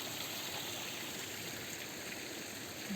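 A stream flowing through the Karaçay valley in Osmaniye, a steady broadband rush of running water that stays even and close throughout, with no voices.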